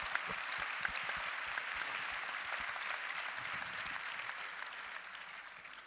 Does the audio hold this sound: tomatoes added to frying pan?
no